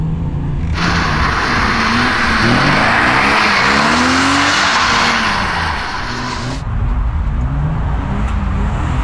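A car slides in a drift between traffic cones, with a long, loud tire squeal over a revving engine lasting several seconds before the engine drops back to a plainer hum.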